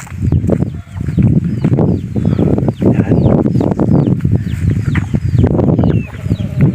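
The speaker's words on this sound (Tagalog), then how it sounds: "Ito yung mga manok." A flock of chickens clucks busily and continuously close by, with overlapping squawks and a brief spoken word.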